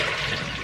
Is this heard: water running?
yes